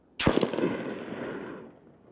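A single rifle shot fired outdoors through a SureFire Warden muzzle device, a sharp loud crack followed by a rolling echo that fades over about a second and a half.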